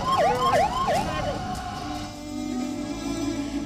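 A blue-light 108 ambulance siren wails in quick repeated falling sweeps, about four cycles, then fades under steady traffic noise on the road.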